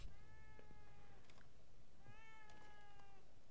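A cat in The Evil Within 2 gives two drawn-out meows about a second and a half apart, clear and close, over a low hiss of background ambience.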